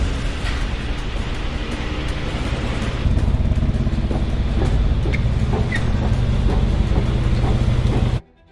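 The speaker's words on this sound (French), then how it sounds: "Le bruit vient sûrement du différentiel arrière." Driving noise from a damaged Mercedes G-Wagon with a suspected failing rear differential: a steady, loud droning rumble with a rising whine that builds midway, then cuts off abruptly at the end.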